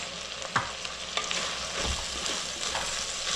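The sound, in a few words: stirring onion greens frying with turmeric and chili powder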